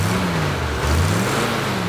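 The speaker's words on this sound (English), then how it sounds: "But you can hear it's still a smooth running engine." A smooth-running Jeep engine idles close by, giving an even, steady mechanical hum with no breaks and no talk.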